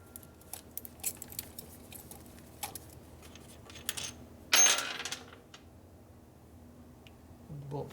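A metal bolt drops and clinks against the engine of a 1965 Harley-Davidson Sportster XLH, a short bright jangle amid faint tool taps and light handling noise in a quiet workshop.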